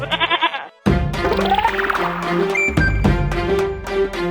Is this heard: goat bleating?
yes